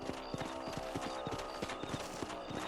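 Horse hooves clip-clop at a steady trotting rhythm in the Western video game Red Dead Redemption, close and clear over a continuous ambient background, with no talking.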